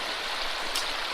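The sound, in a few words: fast water rushing through gold prospecting equipment, Kern River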